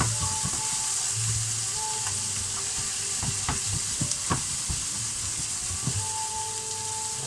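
Garlic and a little almond fry in a hot pan while a spoon stirs them, giving a steady close sizzle with scattered scraping clicks and taps throughout, no talking.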